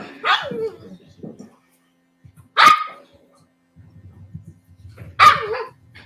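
A puppy barks in three sharp, loud bursts spaced a couple of seconds apart, with quieter whimpering and low rustling between them.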